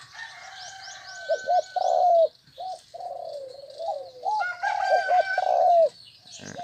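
A mountain-line cage songbird in training sings near and loud, repeating bright whistled phrases and chirps in bursts separated by short pauses, with no voices.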